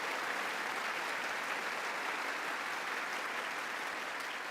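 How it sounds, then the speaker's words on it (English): Clapping from a large Congress audience, played back sped up, runs as a uniform, rapid rustling wash of applause, fairly quiet and unbroken from start to finish. "Sped up clapping does lend it the correct air of farce"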